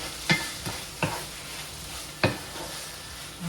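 Prawns cook in a pan with a steady low sizzle, while a few sharp scrapes and clinks of stirring break through at irregular moments, close and fairly quiet.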